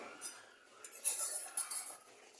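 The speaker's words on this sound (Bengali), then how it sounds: "একবার ঢাকাটা খুলে দেখি কত দূর হলো" A cooking pot lid lifted off while spiced yogurt cauliflower simmers, giving a few light metallic clinks and scrapes close by, with faint rustling and no talk.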